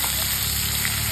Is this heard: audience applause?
no